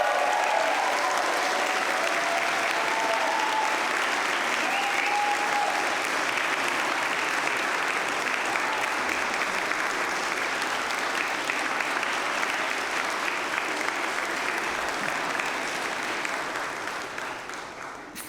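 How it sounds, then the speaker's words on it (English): Graduates at a university graduation ceremony in Manchester give their families and supporters a long, loud, steady round of applause that fills a large hall, fading slightly at the end. "graduates, give your family and your supporters a really big clap"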